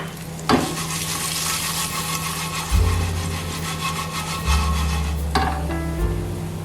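Chili stir-fried in a pan for a Tibetan-seasoned cabbage stir fry, a steady broadband sizzle with scraping stirring strokes and a few low clunks of spatula on pan, close and continuous with no talking.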